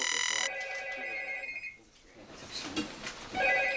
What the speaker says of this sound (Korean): 한 통의 전화가 걸려왔다.